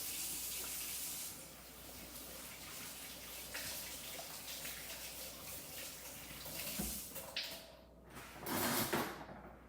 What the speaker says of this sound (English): I usually go ahead and run a sink full of water with soap